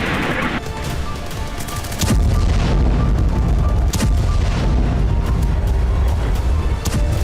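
Rocket, cannon and mortar fire in an attack on border posts: a dense, loud stream of booms and sharp bangs, some distant and some closer, rolling on continuously with no pauses.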